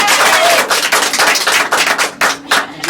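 Audience applause at a live mind-reading stage show, a dense burst of many clapping hands that dips briefly in places but carries on through the whole moment, loud and close.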